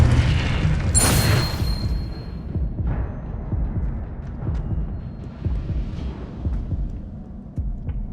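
A Confringo blasting spell in the video game Hogwarts Legacy goes off as one loud, sharp blast near the start, followed by a deep, rumbling tail and a series of low, throbbing thuds.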